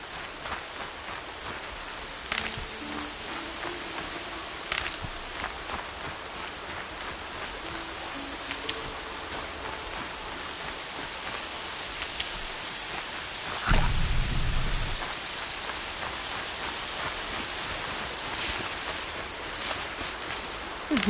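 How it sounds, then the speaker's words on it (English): Steady rain falls across an outdoor scene in the video game Horizon Zero Dawn, a continuous hiss of drops with brief louder patter and a low rumble partway through, no talk over it. "More rain. My boots will get damp."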